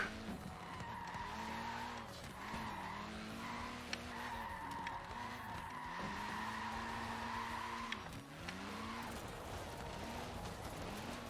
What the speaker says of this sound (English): This car is not really the greatest for drifting.